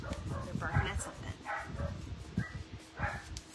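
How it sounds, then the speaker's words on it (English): Several household dogs bark indoors in scattered bursts, moderately close, with someone talking over them. "I don't know what my dogs are barking at."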